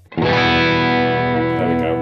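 A Schecter Nick Johnston electric guitar on its split humbucker through a tube screamer drive pedal rings out one sustained, overdriven chord, loud and close, fading slightly with no talking.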